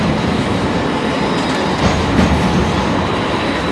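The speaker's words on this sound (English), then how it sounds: "Let's get in front of this tram," A Sydney tram passes on a city street, a loud, close, continuous rumble of wheels on rails with faint clatter and no voices.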